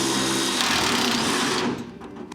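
An impact wrench whirs loudly and continuously while removing a bolt on an old Chevy, then cuts off abruptly near the end, leaving a brief fading rattle.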